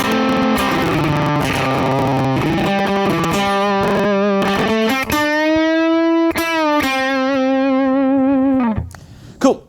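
Slow electric guitar melody from the opening phrase of a solo, with distorted, effected tone; sustained bent notes ring out loud and alone before a sudden stop near the end.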